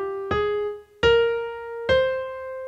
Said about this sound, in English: So the ending for a natural minor sounds like this,